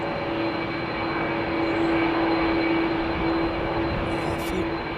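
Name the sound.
jet airliner engines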